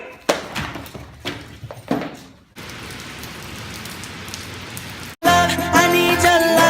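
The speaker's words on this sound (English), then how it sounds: "have you heard it's been raining all day?" Rain falls on a surface as a steady, moderately loud hiss in the middle stretch, framed by thumps and bangs before it and music afterward.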